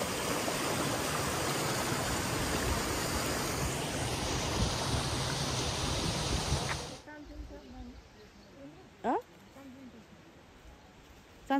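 Water rushes steadily at a traditional water mill (ghatta) in Daman, Chitlang, a loud continuous broadband flow that suddenly drops away to quieter surroundings with a few brief sounds.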